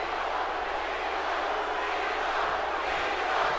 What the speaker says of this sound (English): Crowd here in Buffalo, New York, getting behind John Cena.